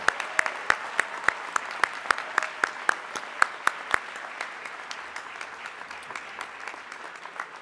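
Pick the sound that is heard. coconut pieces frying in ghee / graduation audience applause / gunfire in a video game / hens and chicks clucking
graduation audience applause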